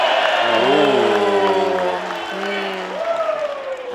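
Crowd cheering and applauding at a professional wrestling opener, a three-way WSW Australian Championship match, with a steady loud roar of many voices and a commentator talking over it throughout.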